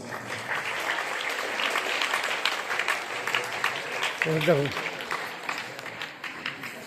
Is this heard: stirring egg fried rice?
no